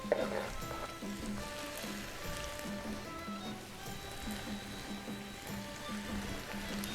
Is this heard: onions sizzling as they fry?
yes